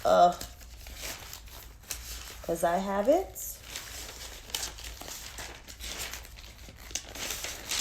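Sheets of paper rustling and crinkling in short bursts while being handled, close by, with a person talking throughout.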